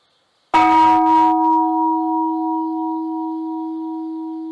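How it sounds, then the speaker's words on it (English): A wake-up bell at Antaiji, a Zen monastery in Japan, is struck once near the start. A short metallic clang gives way to a long, pure ringing tone that fades slowly in otherwise silent surroundings. "one of the Zen students sounds a wake-up bell"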